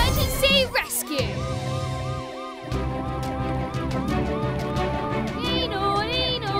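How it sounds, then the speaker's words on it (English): A cartoon ambulance bus sounds its siren in a children's animated show, a rising and falling electronic wail that stays loud and continuous, layered over upbeat background music and sound effects. "You can use the siren to alert everyone that you're rushing to an emergency."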